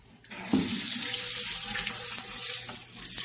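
Celery rinsed under a running kitchen tap, a steady close hiss of flowing water that starts abruptly and splashes over the stalks, alone without talk.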